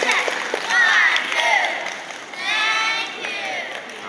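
A school audience applauds and cheers for a fifth-grade class at a Mother's Day event before an English singing competition piece, a busy mix of clapping with children's excited voices and shouts throughout, moderately loud.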